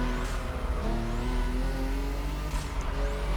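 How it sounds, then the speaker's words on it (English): A widebody Nissan GT-R in The Crew Motorfest roars loudly with engine and turbo revving, a sustained, rising growl with whooshing turbo spool sweeps and a brief tire chirp. "The turbo sounds are so clean."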